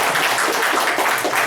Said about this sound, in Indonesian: Oke, kasih tepuk tangan ya untuk Pak Franky